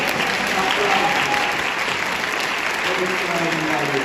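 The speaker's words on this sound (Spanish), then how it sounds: "¡Aplausos, sí, por favor!" Loud, continuous crowd applause at a voice-acting conference, dense and even with no pauses or speech.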